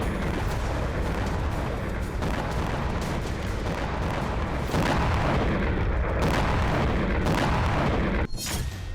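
Artillery and bomb explosions from the Russia-Ukraine war, heavy FAB 500, FAB 1000 and FAB 1500 bombs among them, form a dense, continuous roar of blasts and booms for about nine seconds, loud and sustained.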